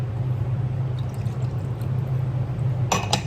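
Lime juice pours steadily into a measuring cup in the kitchen, a continuous liquid trickle over a low hum, ending with a couple of sharp glassy clinks.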